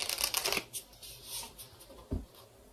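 Cards being handled and drawn from a tarot deck, a quick papery shuffle up front followed by a faint slide and a single soft tap, close and quiet with no talking.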